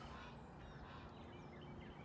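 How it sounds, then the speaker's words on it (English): A goose honks outdoors near a backyard herb garden in early spring, faint and distant honks over a steady noisy background, with no talk. "Oh, that's a goose."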